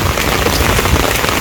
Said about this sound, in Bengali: তো বৃষ্টিটা নামছে একটু আগেই